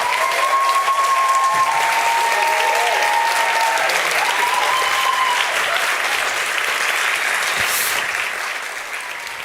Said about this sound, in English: I would like you all to give them an amazing round of applause